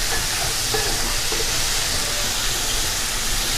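Leftover food sautéing in a pan gives a steady, broadband sizzle that hisses continuously at moderate loudness, with a few faint clinks underneath and no voices.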